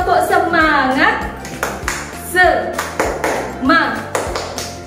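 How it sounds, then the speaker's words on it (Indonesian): Children's patterned spirit clap in an Indonesian classroom lesson: sharp rhythmic hand claps in quick groups, mixed with chanted voices and a tinkly tapping accompaniment, close and fairly loud. "ayo kita tepuk semangat dulu ya"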